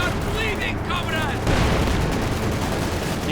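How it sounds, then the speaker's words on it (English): Artillery fire in the video game Company of Heroes 2 erupts into a dense, rumbling barrage after a moment of a commentator's voice, with booms layered over the ongoing battle noise. "Lots of artillery going off left and right."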